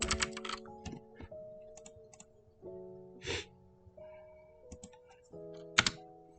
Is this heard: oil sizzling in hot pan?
no